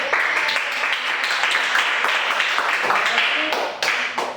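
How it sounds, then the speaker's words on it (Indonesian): Group applause during a coding and AI lesson session, a few seconds of brisk clapping from a small group, fairly close and loud, tapering slightly at the end. "tepuk tangan untuk kita semua dulu"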